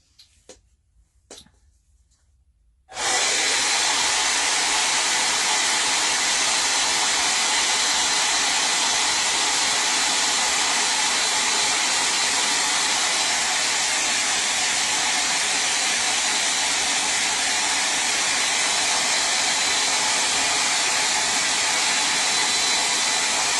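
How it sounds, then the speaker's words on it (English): A hair dryer blows on a decoupage Easter egg to dry its yellow layer before varnishing. After about three seconds of near quiet it starts up and runs as a loud, steady, close whooshing roar that never lets up. "right now I'm going to dry the whole thing real quick so this yellow will be dry"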